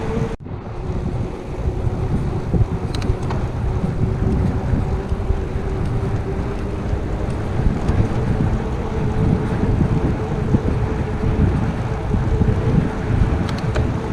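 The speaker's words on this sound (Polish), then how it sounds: "wiatr wieje tak, że, że mnie hamuje" Steady wind blowing hard against a lone cyclist on a return ride, a loud, constant rushing roar of microphone wind noise with a low hum throughout, no talking.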